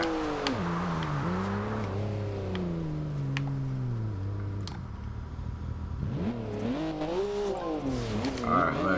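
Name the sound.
2014 BMW M4 engine driving in video game Forza Horizon 2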